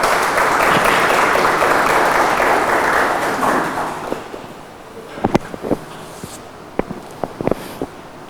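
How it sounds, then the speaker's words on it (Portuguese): A ceremony audience at the FAIP college in São Paulo state claps loudly in a dense, sustained wave of applause for about four seconds, then it thins out into scattered, separate claps. "Uma salva de palmas a todos os professores desta instituição, visitantes e aos futuros profissionais da FAIP"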